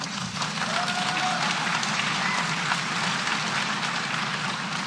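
A crowd claps at a political speech, a dense and steady wash of applause that holds at an even loudness from start to finish, with no break and no single voice standing out.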